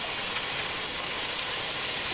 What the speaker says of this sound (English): So let me wash my hands.